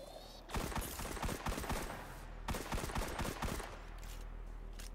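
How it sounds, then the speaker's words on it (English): Minimum Distance kinetic pistol firing in Destiny 2, two quick bursts of rapid sharp shots separated by a short pause, loud and close over a low game ambience with no talking. "I love this pistol though. It's called the Minimum Distance."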